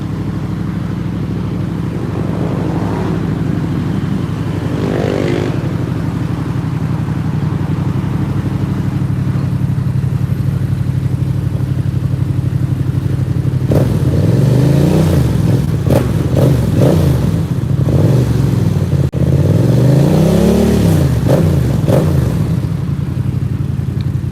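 A 2022 Yamaha MT-07 motorcycle engine idles with a steady low rumble, then breaks into several loud revving bursts that rise and fall in pitch, close by with no one talking.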